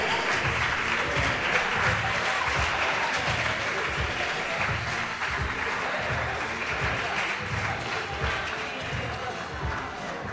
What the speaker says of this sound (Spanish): Sí, por ahí, un aplauso.